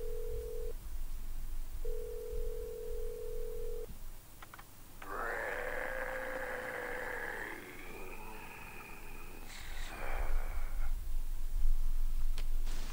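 A phone call in Saints Row 2: two long ringback tones, then a burst of tonal electronic chirps and warbles as the call connects, fairly quiet over low background rumble.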